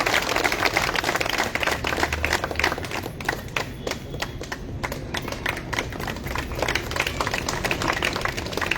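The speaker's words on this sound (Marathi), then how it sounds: "महाराज साहेबांच्या या स्वागतासाठी जरा टाळ्या जोरदार वाजूया." An audience at a welcoming ceremony claps for an honoured guest, Maharaj, with brisk, dense applause that stays loud and even for several seconds, with no talk over it.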